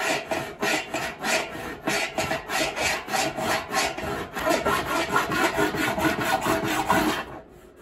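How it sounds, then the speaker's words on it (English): A large hand rasp filing down cured putty during a heat pump tumble dryer repair, steady rhythmic scraping strokes at close range that stop near the end. "So I've got this big, some kind of a rasp or something. It's like a file."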